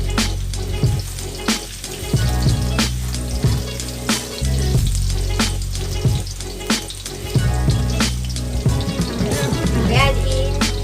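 Garlic frying in a pan for a prawn curry, a steady soft sizzle with scattered clatters and knocks of utensils and cookware nearby.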